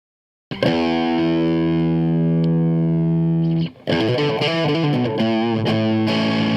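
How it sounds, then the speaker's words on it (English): A distorted electric guitar rings out, a sustained chord first, then a run of changing notes, loud and close with heavy effects. "I was mistaken in how loud that guitar was."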